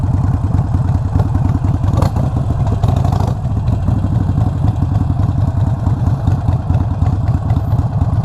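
A Harley-Davidson Sportster motorcycle engine idles close by with a loud, steady, lumpy low thumping and mechanical clatter throughout, with no talk.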